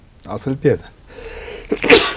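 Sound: sneeze

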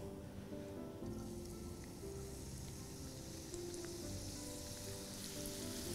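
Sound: chopped onion frying in hot oil

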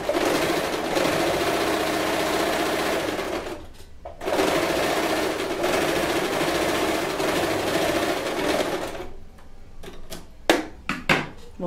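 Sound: Elgin Genius sewing machine stitching fabric

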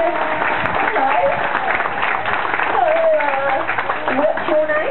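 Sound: audience applause for girl volunteers at dolphin show

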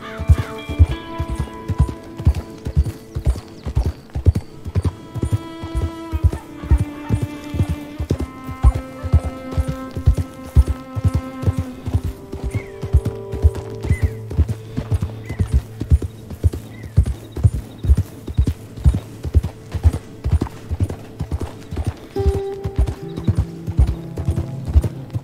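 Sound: horse galloping in Red Dead Redemption 2 video game

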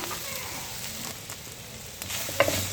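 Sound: ivy gourd stir-fry with gram flour being stirred and sautéed in a pan

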